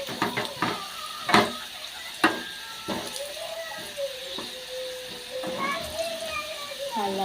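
Potato pieces fry in a pan with a soft steady sizzle, punctuated by a few sharp clinks of a stirring utensil, while a voice speaks over the cooking.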